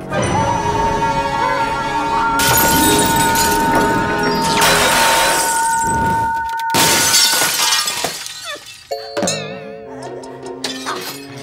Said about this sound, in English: I can even sing so high, my voice will cause this glass to break.